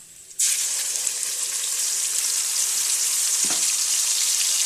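A ground spice paste with turmeric powder sizzles loudly in hot oil in a pan with fried garlic, a sudden burst of steady frying hiss that holds on evenly, with a brief stir partway through.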